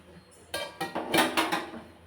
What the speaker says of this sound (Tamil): இப்போ மூடி போட்டு மூடி வச்சிடலாங்க